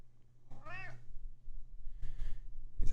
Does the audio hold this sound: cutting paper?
no